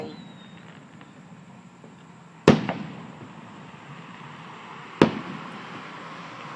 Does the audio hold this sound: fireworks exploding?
yes